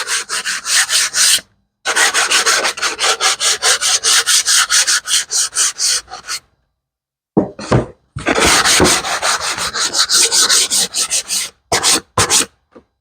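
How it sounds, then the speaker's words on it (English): Rapid back-and-forth sanding strokes on the edges of an MDF board, loud and close, in steady bursts with brief pauses between passes. "we got all the edges sanded down on that one"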